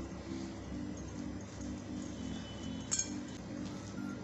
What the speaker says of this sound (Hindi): चिकन क्यूब को आलूओं के साथ अच्छी तरह से मिक्स कर लेंगे।